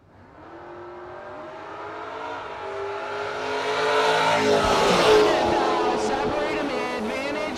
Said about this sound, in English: Michaels, the 4th gen Camaro out of Maryland